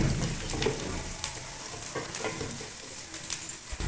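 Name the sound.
onions frying for aloo pulao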